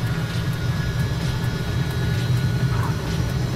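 Hawker Hunter twin-seat jet engine at full throttle in a flight simulator, a steady, loud broadband roar with a low rumble and a faint whine, sustained and unbroken with no talk.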